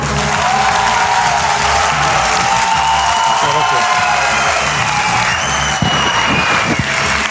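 A packed theatre audience at a live Spanish radio show applauds a singer-songwriter, a loud, continuous wash of clapping with scattered cheers throughout.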